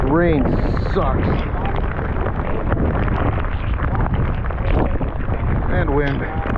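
Heavy rain and gusting wind buffet a white water kayaker in a storm, with steady loud wind roar on the microphone throughout and excited voices calling out over it.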